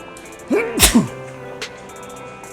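One sharp, loud sneeze bursts out near the middle, preceded by a brief inhaled voice, then quiet again.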